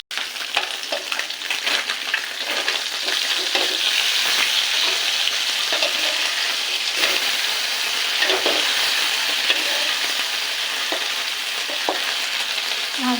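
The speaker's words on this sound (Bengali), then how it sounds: "মাছটাকে ভেজে নেবো ভালো করে।" Small fish fry in a pan of hot oil with a loud, dense, unbroken crackling sizzle that holds steady throughout, heard close up with a few faint stirring touches.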